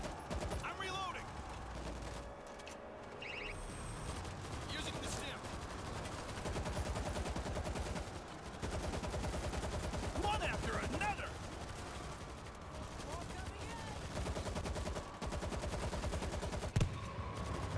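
Rapid automatic gunfire from a gun turret in a video game, sustained bursts filling the scene with a dense, steady clatter mixed with other game effects and occasional voices underneath.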